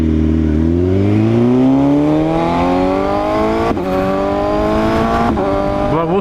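A new Ferrari sports car accelerates past nearby. Its loud engine note climbs steadily in pitch through the gears, with brief dips at the shifts.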